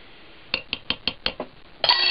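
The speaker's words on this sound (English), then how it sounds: "give them a good vigorous stirring" Beans and potatoes get a vigorous stir in a Dutch oven on a wood-burning stove: about half a dozen quick, rhythmic metal scrapes and clanks close by, then one longer, harsher scrape.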